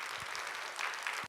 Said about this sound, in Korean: 큰 박수로 청하여 말씀을 듣겠습니다